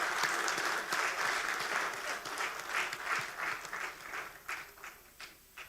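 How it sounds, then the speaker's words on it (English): An audience at a credit union gala at Sandals Grande applauds, a dense burst of clapping from a large crowd that swells and then gradually thins out into scattered claps. "Can we get another round of applause?"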